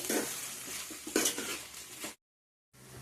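Broad bean curry with turmeric being stirred in a pan, scraping spoon strokes over a low sizzle, with a sharper scrape midway, then a short silence before the sizzle returns.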